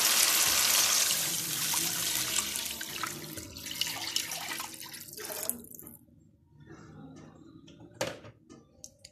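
Chicken stock pours into a soup pot for macaroni chicken soup, a loud rushing liquid stream that gradually thins to a trickle and stops, followed by a few faint drips and a light clink.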